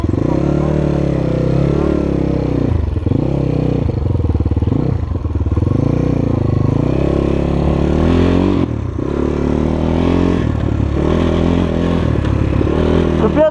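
A Kovi Lite 300 KT Chinese enduro motorcycle with a 174-series 300 cc engine runs loud and close, its single-cylinder note rising and falling through repeated revs and throttle changes, with a few brief dips, and a voice speaks over it.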